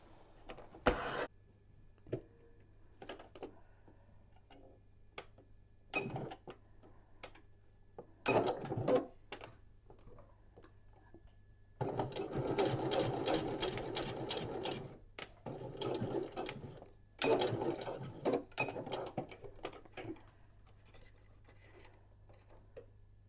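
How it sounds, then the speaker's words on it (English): A sewing machine stitches fabric scraps for a small key fob, running in short bursts and then two longer steady whirring runs separated by pauses, close and fairly quiet, with no speech. "Now go and sew along here."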